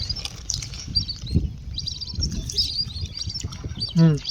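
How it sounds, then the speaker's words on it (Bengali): Small birds chirp and tweet in quick, bright bursts at a bird sanctuary near Nabadwip, heard at a moderate distance under nearby voices and footsteps, ending with a louder low thud. "ওই দেখো পাখি।"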